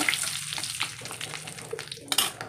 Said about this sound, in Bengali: এখন দিয়ে দেব আবারও তেল এখন দিয়ে দেব কয়েকটা শুকনো লঙ্কা ফোড়নের জন্য